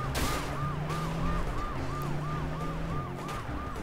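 Police car siren in the video game Wheelman, a steady repeating wail cycling about every third of a second, loud and continuous over engine rumble and background music throughout.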